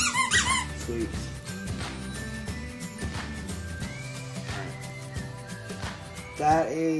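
A squeaky dog toy squeaking repeatedly, squeezed in irregular bursts, with a soft voice murmuring in the background.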